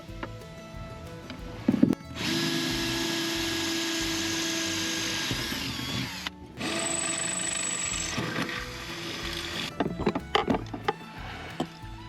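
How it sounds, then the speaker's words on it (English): Power drill boring a hole in the back of a dinghy, two sustained whirring bursts of several seconds each with a short pause between, close and loud, followed by a few clunks. "I have to drill a hole in the back of the dinghy."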